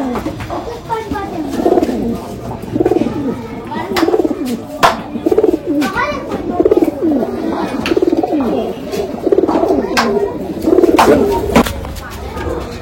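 Desi pigeons coo repeatedly in a loft, their soft throaty calls overlapping close by, with a voice talking intermittently under them.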